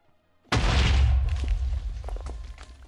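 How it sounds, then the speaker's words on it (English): A sudden loud explosion in a Minecraft dig competition booms close by after a quiet start, then rumbles and crackles as debris settles and fades over a couple of seconds. "As soon as I hear the explosion, I know to move on."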